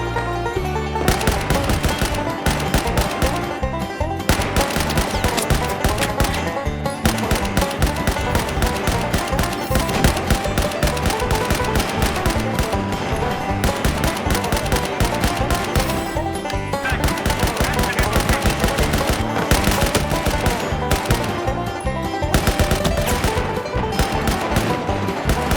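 Dense, continuous assault rifle fire in a Battlefield shooter game, with loud rapid bursts rattling nonstop amid game effects and no pauses.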